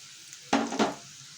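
Whole cumin seeds and bay leaves hit hot oil with crushed garlic in a kadai, setting off a short, sharp sizzling burst in two quick pulses before fading to a quiet background hiss.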